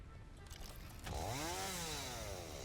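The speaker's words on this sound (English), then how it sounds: "let's get the chainsaw back out quick" A chainsaw in the factory-building game Satisfactory revs up after a quiet start, its whining motor rising and falling in pitch as it settles into a loud, steady buzz with no talking.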